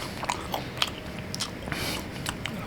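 Close biting and chewing on a slice of cast iron pan pizza topped with beef, cheese and blue cheese: several crisp crunchy bites followed by steady wet mastication, with no talking.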